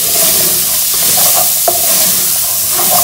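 A small onion sizzles loudly in a pan with garlic, a steady close frying hiss with occasional stirring scrapes and a single sharp tap of a utensil midway.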